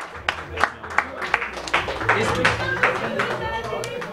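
Applause sounds from the video game Tetris 2 The Absolute PLUS: a quick string of sharp claps and taps over a busy electronic backdrop, moderately loud.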